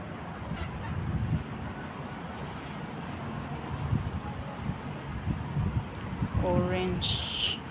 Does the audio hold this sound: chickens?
yes